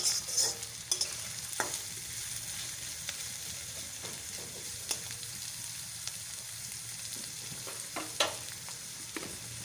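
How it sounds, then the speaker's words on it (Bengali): Onions fry in oil over a high gas flame for a chicken liver and stomach dish, sizzling in a steady, moderately quiet hiss with occasional light scrapes and clicks, and no one talks. "গ্যাসের ফ্লেমটা হাই করে দিয়ে আমি পেঁয়াজগুলো ভেজে নিচ্ছি।"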